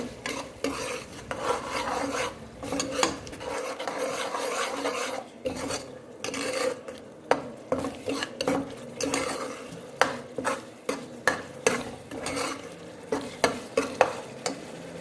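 A spoon scrapes and stirs through a pan of cooking moong and masoor dal with salt and turmeric powder, giving repeated rhythmic rasping strokes over a low sizzle, close and steady throughout.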